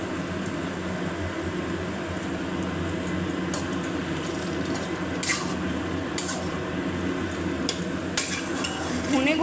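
Raw coriander powder is stir-fried into taro greens in a pot, with a low continuous bubbling simmer under intermittent metallic scrapes and clinks of a spatula against the pot.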